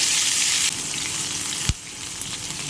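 Onions and bay leaf fry in hot oil, giving a loud hissing sizzle that drops a little partway through, with one sharp knock of a utensil against the pan.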